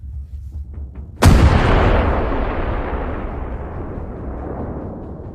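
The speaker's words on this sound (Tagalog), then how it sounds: "Pumutok na ang mga kanyon na M777." An M777 howitzer fires a single loud, close artillery blast that cuts in sharply and rolls away in a long, slowly fading rumble and echo.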